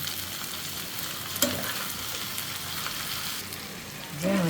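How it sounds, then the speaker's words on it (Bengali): Onion, chili, yardlong beans and potato fry in a pan with a soft, steady sizzle, a spoon clinking and stirring now and then, fairly quiet and close. "মরিচের পেঁয়াজটা ভেজে নিচ্ছি এখন বরবটিটা দিয়ে দিব বরবটি আর আলুটা লবণ সব মতো দিব"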